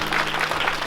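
An audience at a ministry event applauds a camp, a brief burst of loud, close clapping from a crowd with a faint low hum underneath.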